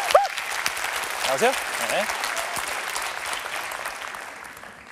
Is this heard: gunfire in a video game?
no